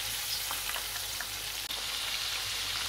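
Chicken pakodi deep frying in hot oil, a steady dense crackling sizzle that holds even and close throughout with no voices.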